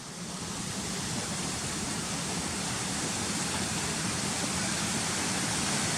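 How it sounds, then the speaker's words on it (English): A waterfall in the Yorkshire Dales pours in a steady, continuous roar of rushing water, broadband and unchanging, heard close by with no voices over it. "I want to get a shot at the top of these waterfalls"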